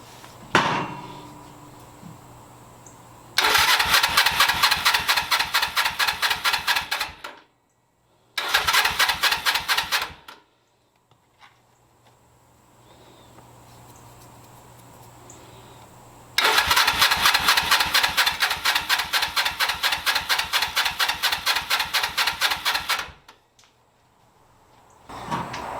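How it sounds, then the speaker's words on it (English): A 1982 Suzuki GS300L motorcycle engine cranks on the starter in long rhythmic chugging bursts, three attempts of several seconds each, with a loud close clatter and no catch, quiet gaps between tries. "now I can't get the bike to start"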